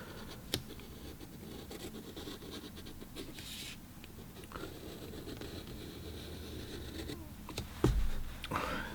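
A pencil sketches a vase outline on paper before painting yellow flowers, making soft, steady scratching strokes close up and faint, with a few small taps and rustles.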